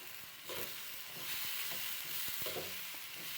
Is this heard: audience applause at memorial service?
no